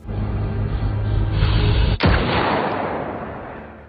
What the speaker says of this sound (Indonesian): Chen berhasil mengheadshot Adrian dengan sebuah tembakan jitu